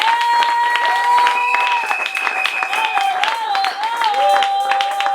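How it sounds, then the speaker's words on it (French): A church congregation applauding and acclaiming, with steady dense clapping and cheering voices filling the room, while a sustained musical tone carries through. "On acclame le Seigneur"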